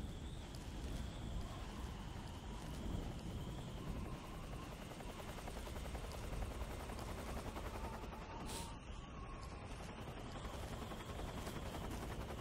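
A helicopter in the video game Metal Gear Solid 3 drones steadily and loudly with a constant rotor chop throughout, joined at times by bursts of gunfire.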